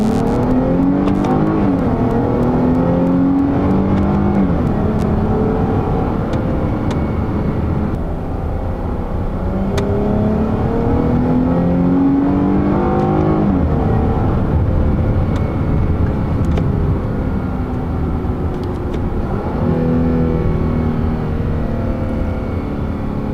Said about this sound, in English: We are going to do another manual pull, and hopefully from first to second it can do a little better